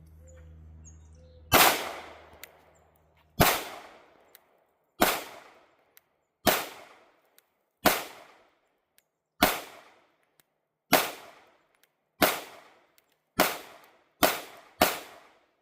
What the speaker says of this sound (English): So I'll give you a few rounds from this guy